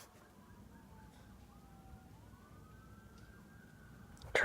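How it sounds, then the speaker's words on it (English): Fire engine sirens in a parade, distant wailing tones sweeping up and down over low traffic rumble, ending in a sudden loud burst. "Fire engine parade thing."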